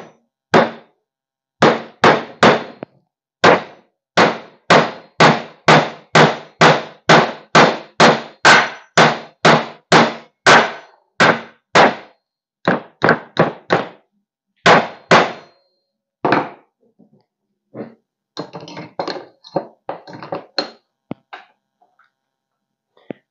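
A hammer striking a nail in carpentry work, heard as some twenty sharp metallic blows in a quick, even rhythm, loud and close, followed by a few scraping, prying clicks.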